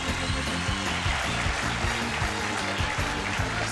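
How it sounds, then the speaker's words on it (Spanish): Audience applause at a Colombian comedy show, loud steady clapping mixed with a rhythmic background beat throughout the short stretch. "Vamos a darle un fuerte aplauso a todas las mambitas de Colombia."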